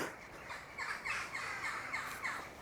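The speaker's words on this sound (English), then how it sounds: "the birds are not too happy about this." Crows caw repeatedly in a graveyard at night, several harsh calls in a ragged rhythm at moderate distance over a steady background hiss, with no talking.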